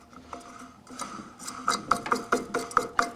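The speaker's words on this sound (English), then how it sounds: "we'll install the impeller again by screwing it onto the shaft in a clockwise direction" An impeller being screwed by hand onto the shaft of a Pentair WhisperFlo pool pump, giving a close series of short metallic clicks and ticks that grow sharper and more regular toward the end.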